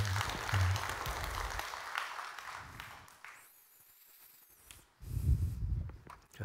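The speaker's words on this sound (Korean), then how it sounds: "박수 한번 해주시고요." A congregation claps during a Korean church Bible study on Esther. Dense applause fills the first half, thins to a quiet lull, then a low voice speaks near the end.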